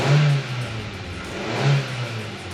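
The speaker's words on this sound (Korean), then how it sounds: "엔진 소리 굉장히 좋고요." A 2018 Hyundai Avante AD LPI car engine revs up, its low drone rising and falling twice in a steady idle, close by with no talking.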